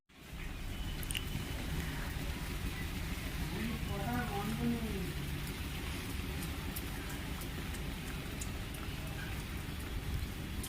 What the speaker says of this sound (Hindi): हमारे यहाँ पे बहुत तेज बारिश चल रही है काल से।